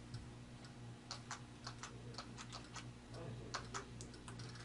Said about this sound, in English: I'll type some text using the Perkins-style Braille keyboard on the top of the Braille display.